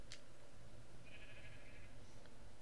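A sheep bleats in Minecraft survival gameplay: a single short, moderate bleat in the middle, heard over a steady, dense background hiss of game ambience.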